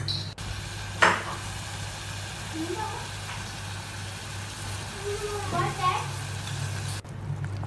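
Vinegar is stirred bit by bit into a pan of fresh dates and green mango pickle, with a low simmering sizzle and occasional spoon scrapes under a person talking throughout.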